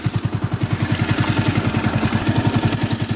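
Up close, a Yamaha YZF 125 motorcycle engine idles with a steady, rapid, even chugging pulse, loud and unaccompanied by speech.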